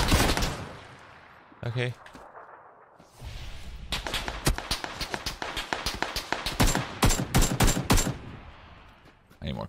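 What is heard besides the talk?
gunfire in the video game PUBG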